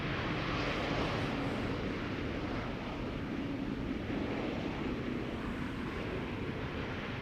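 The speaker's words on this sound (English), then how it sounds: "This is KLM flight 954 arriving from Newcastle, an E2 Embraer 195" A KLM Embraer E195-E2 jet airliner arriving from Newcastle roars steadily in a broad, continuous rumble of engine noise with some wind buffeting, fairly distant and alone without voices.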